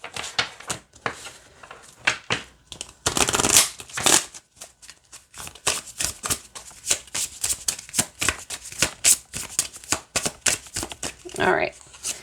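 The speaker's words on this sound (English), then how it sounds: "So we'll shuffle and then we'll read in depth on the cards." Moon Magic oracle cards being shuffled close up, a long run of rapid papery riffles and slaps in quick rhythmic bursts, with brief pauses between.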